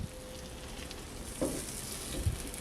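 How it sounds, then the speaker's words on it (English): Frozen pot pie cooking in a small electric mini skillet, a faint, steady bubbling and light sizzle, close and continuous, with a couple of soft knocks. "it's bubbling over here"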